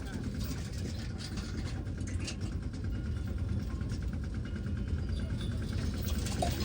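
A tractor engine runs steadily on a village farm road near cotton fields, making a continuous low, mid-loud rumble with no breaks.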